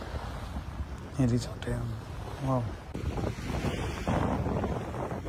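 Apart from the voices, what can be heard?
sea waves and wind at a Maldives island resort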